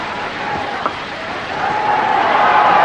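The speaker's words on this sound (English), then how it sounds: "And the anticipatory clapping starts" During a cricket match, a stadium crowd claps in anticipation as a batsman closes in on his hundred. The clapping forms a distant, steady wash of noise that swells slightly louder toward the end.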